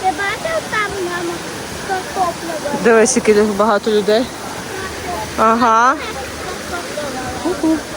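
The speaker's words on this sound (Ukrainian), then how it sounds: "Але дивіться, який водоспад." Zhenetskyi Huk waterfall in the Carpathians gives a steady rushing wash of water beneath the whole stretch, with people chatting nearby over it.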